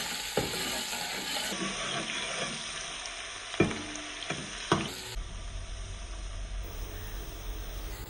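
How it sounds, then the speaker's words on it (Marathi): Ground garlic fries in hot oil in a pan for a bombil potato curry, giving a steady close sizzle with a few sharp stirring knocks and scrapes. "लसूण लालसर होईपर्यंत परतून घ्यायचा आहे"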